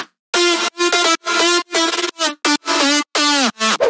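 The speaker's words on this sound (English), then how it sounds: "Then I added a pitch bend." A sharp, bright synth lead in a future house drop stabs out a syncopated rhythm of short notes, several bending in pitch as they slide, loud and alone.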